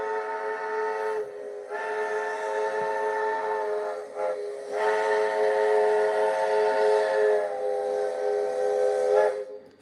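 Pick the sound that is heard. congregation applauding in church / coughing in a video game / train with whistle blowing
train with whistle blowing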